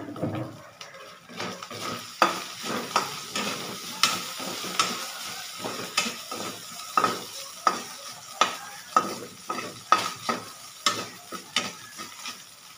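Garlic sautés in a pan for pork adobo with string beans, a steady sizzle and frying crackle broken by regular scraping stirs that come about every second, close and fairly quiet, with no talking.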